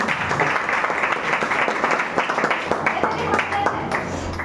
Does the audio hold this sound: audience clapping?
yes